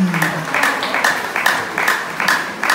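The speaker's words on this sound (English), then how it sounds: "please put your hands together for these beautiful people here" A pageant audience claps in irregular bursts, fairly close and moderately loud, a short ragged round of applause with no talk over it.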